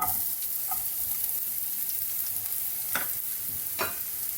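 Small onions frying in two tablespoons of oil, a steady sizzle broken by a few sharp scraping stirs near the end, with no talking.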